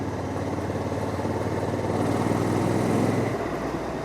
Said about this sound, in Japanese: 今4速にシフトダウンしました。